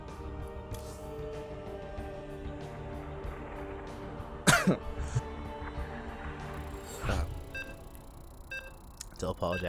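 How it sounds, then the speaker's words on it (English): A commentator coughs during an ESL SC2 Masters StarCraft II PvZ broadcast, a sharp close burst followed by a second smaller one over a steady background hum. "The cough snuck up on me, Bobby."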